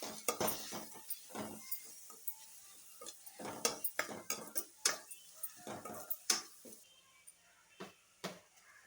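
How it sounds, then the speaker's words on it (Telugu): A pan of Telugu brinjal and yam curry being stirred after curry leaves and a pinch of turmeric go in, with repeated close metallic scrapes and clinks of the spoon on the pan in an irregular rhythm over a faint sizzle. "ఒక 2 రెబ్బలు కరివేపాకు వేసుకుందాం. అలాగే చిటికెడు పసుపు, ఒకసారి కలుపుకుందాం."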